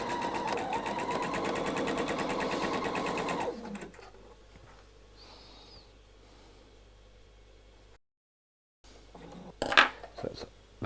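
A sewing machine runs steadily for about four seconds, stitching a dress seam with a rapid, even mechanical chatter. It stops, leaving a quiet hum and faint handling clicks, then a brief clatter near the end.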